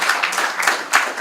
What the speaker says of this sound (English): Is there any other questions or just a big applause for